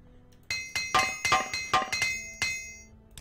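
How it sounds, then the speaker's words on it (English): An Armorer's Hammer in the game Morrowind makes a run of bright metallic repair clinks, about eight evenly spaced ringing strikes over nearly three seconds, each with a short shimmering decay and no talk over them. "Now let's go ahead and use this Armorer's Hammer."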